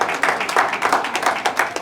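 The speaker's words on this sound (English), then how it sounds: "Big round of applause to sir," Applause from a modest audience at an Ayurveda Day award function, a sparse cluster of hand claps with distinct individual strikes that stay fairly close and lively throughout.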